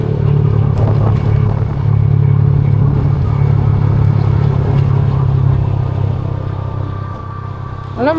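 A loaded motorcycle rides along a road on a long Manila to Mindanao trip, its engine a steady, close rumble with rushing wind throughout, easing slightly near the end.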